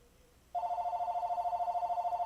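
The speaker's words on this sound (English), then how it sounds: "Phone's going off." A phone starts ringing abruptly with a steady, rapidly pulsing electronic tone, clear and fairly loud, continuing unbroken after a quiet start.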